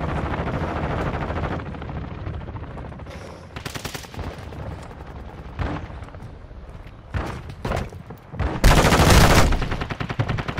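Gunfire in the Call of Duty DMZ video game on the Vondel map: loud automatic bursts and rapid shots, some near and some farther off, coming in irregular clusters with short pauses and a heavy sustained volley near the end.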